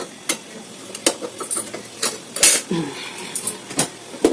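Metal cooking pan clattered with a lid, sharp clanking taps and knocks in an irregular sequence close by, with kitchen handling noises between them.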